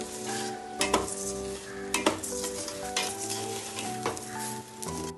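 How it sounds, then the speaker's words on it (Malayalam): Rice fries in a mix of oil and ghee with a steady sizzle, while a spoon scrapes and stirs against the pan in a few sharp, close knocks; there is no talking. "ഈ അരിനെ ഞാനൊന്ന് ഈ എണ്ണയിൽ വറുത്തെടുക്കാം കേട്ടോ. എണ്ണയും നെയ്യും കൂടിയിട്ട് ഇതിലേക്ക് വറുത്തെടുക്കണം കേട്ടോ"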